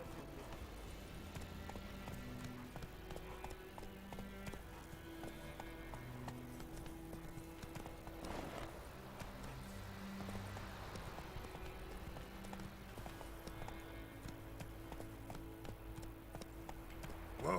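Roach the horse gallops in Witcher 3, a steady rhythmic clip-clop of hooves on a road heard close and continuous, with faint background game sounds.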